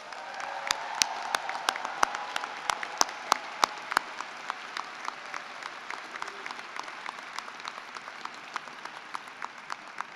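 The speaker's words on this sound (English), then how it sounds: "Let's give them all a round of applause." Graduation celebration audience applauding faculty and staff, a soft continuous patter of many hands in a large space with a few sharp, close individual claps standing out rhythmically.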